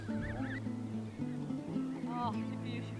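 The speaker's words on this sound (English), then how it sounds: "These are what they'll grow into, Canada geese." Canada geese and their goslings call near a canal towpath at a nature reserve, with thin high peeping chirps over low honks and murmurs, close and fairly constant.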